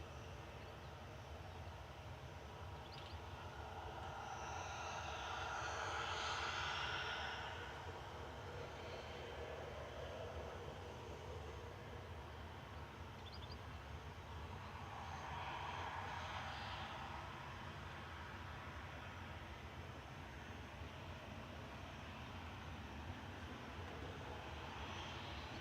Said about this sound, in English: Logan Air Flight 21 from Aberdeen, GSA JH and ERJ 145.